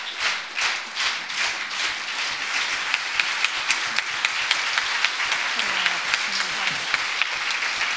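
Audience at a book launch during a spring tour event in Prague claps steadily, a sustained round of applause with distinct rhythmic claps standing out, and a voice faintly audible underneath.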